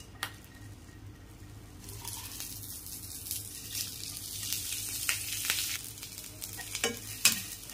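Pumpkin seeds, garlic and coriander seeds fry in a little oil in a pan while being stirred, giving a steady close sizzle with scraping stir sounds and a few sharper crackles near the end.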